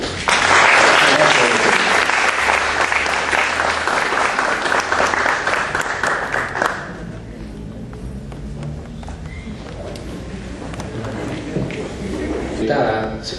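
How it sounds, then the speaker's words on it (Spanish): Strong applause from a lecture audience at a Spanish-language criminology panel, dense and loud for about seven seconds, then fading into scattered claps with murmuring talk underneath. "agradezcamos la participación de nuestros ponentes, de nuestros panelistas, ¿no?, con un fuerte aplauso"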